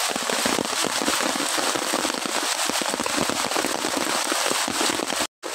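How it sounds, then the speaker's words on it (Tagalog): Heavy rain pours down steadily on a solo mud crab hunt outdoors, a dense, loud, hissing patter with crackling drops close to the microphone, continuous for several seconds before a brief dropout near the end. "lalong lumalakas po ang ulan"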